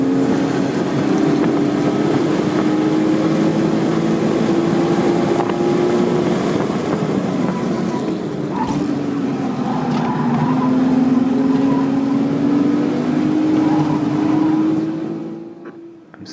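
A manual-transmission race car accelerating hard down a straightaway at Eagles Canyon Raceway, its engine a loud continuous drone rising in pitch, dipping briefly as it shifts, then climbing again before fading at the end, with heavy wind noise throughout.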